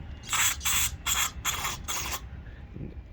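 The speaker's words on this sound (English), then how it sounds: "you want to spray it into pretty much every single hole that you can find on the carburetor" Five short hissing bursts of carburetor cleaner sprayed into the holes of a Huskee tiller carburetor in quick, even succession, close up, followed by a faint quiet tail.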